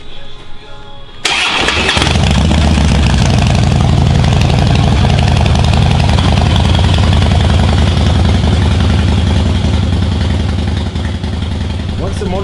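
Harley-Davidson motorcycle engine during a service check, starting up after a brief quieter lead-in and then idling loudly with a steady, throbbing rumble close by; talk is heard faintly around it.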